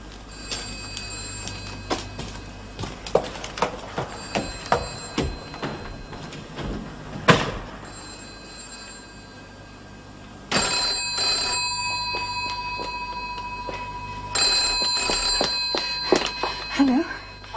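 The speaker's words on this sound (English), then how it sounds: "Sounds like the phone's ringing." An electronic phone ringer trills in repeated bursts with pauses between them, alongside faint background movement and shuffling.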